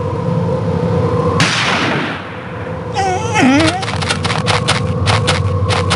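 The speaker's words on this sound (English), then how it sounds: "The gunshot seems to have frightened him off." A sharp gunshot cracks out in a snowy outdoor scene in the Murder on the Orient Express video game, a single loud blast followed by a wolf's yelp, with game ambience and sounds continuing after.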